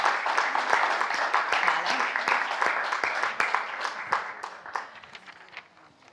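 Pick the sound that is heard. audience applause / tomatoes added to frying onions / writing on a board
audience applause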